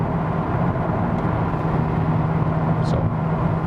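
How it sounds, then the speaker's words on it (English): Cabin of a 2016 Honda Civic Type R, 310 hp, cruising steadily at about 100 km/h on cruise control, with a constant loud drone of engine, tyre and road noise and no clear voice. "set the cruise control, and I can let the car cruise"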